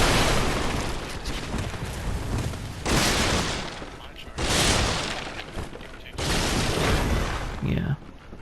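Cannon blasts in Bloodborne, three or four heavy booming explosions spaced a couple of seconds apart, each a broad loud burst that fades slowly, with a voice talking over them.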